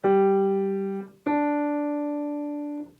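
Two separate piano notes sound one after another, each decaying before a brief gap, clearly detached rather than connected.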